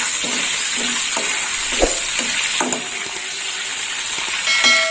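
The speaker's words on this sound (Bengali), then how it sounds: "ফোড়নটা একটু ভাজা হোক।" Loud, continuous sizzling of Bengali whole spices (phoron) frying in hot oil for a prawn and pointed gourd curry, with scattered pops and a few clinks of a utensil.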